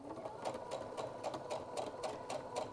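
A sewing machine stitches fabric for a puff quilt with a fast, steady, regular rhythmic clatter, close and moderately loud, with no voices.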